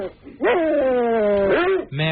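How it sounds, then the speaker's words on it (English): Loud, close, drawn-out barking yowls, one long wavering call followed by the start of another. "my dog's barking"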